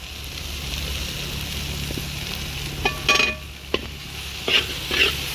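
Tomato masala with coriander, chili, turmeric powder, garam masala and salt sizzles steadily in a pan while a spoon stirs it, with a few louder scraping strokes near the end.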